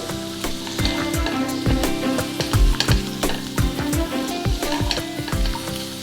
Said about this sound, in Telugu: 2 క్యారెట్స్ని ముక్కలు చేసుకొని వేసుకుంటున్నాను. క్యాప్సికమ్ ముక్కలు వేసుకుంటున్నాను.